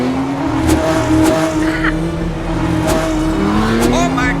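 A car speeds along a European road during a van road trip, its engine loud and close with a squeal of tires rising and falling, while people shout over it.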